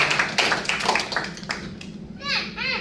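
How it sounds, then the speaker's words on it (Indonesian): Hands clap in rhythm among a church congregation during an Indonesian sermon, sharp repeated claps in the first half, then fading as a voice speaks and whistle-like sweeps appear near the end. "Kasih tepuk tangan untuk Tuhan Yesus dulu Bapak Ibu"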